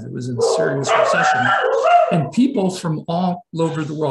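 Dogs bark in the background of a home while someone talks continuously over them, with short yips and barks mixed under the steady speech.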